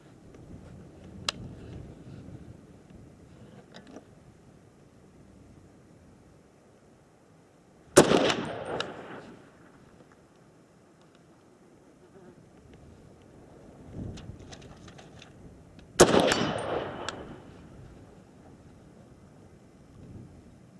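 Two sharp, loud SOCOM 16 rifle shots fired at an outdoor range toward an 88-yard target, spaced about eight seconds apart, each followed by a short echoing decay over light wind noise.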